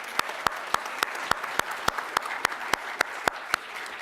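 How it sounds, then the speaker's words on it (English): A hall audience applauds after a panel at a statewide hearing: a steady wash of clapping with one loud, evenly timed clap standing out close by, continuing throughout. "let's give that panel one more round of applause"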